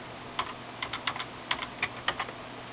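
Quick bursts of keystrokes on a computer keyboard as a password is entered, several light clicks in short uneven groups, close and fairly quiet.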